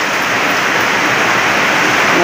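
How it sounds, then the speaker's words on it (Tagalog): Heavy rain pouring steadily, a dense, loud hiss of water with no pauses throughout. "Napakalakas ng ulan."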